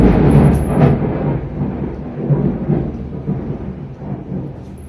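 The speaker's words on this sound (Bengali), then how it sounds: "কি জোরে বিদ্যুৎ চমকালো" Deep rolling rumble of thunder, loud and close, swelling and fading over several seconds beneath a low wash of rain.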